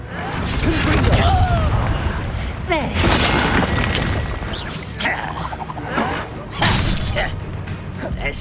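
Confringo fire spell blasts in the Hogwarts Legacy video game, several booming impacts and crackling bursts mixed with combat clatter and a character's voice shouting.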